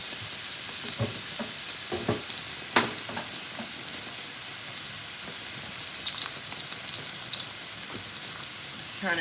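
Salmon fries in a pan on a stovetop as it browns, giving a steady close sizzle with occasional sharper pops and spatters, no talking.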